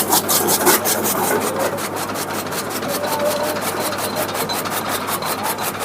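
A double-blade chaff cutter chopping fodder whirs with a fast, regular chopping rhythm, each blade pass giving a sharp rasping tick, loud and continuous.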